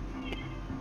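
A house cat gives a single short meow close by, over a steady low background hum.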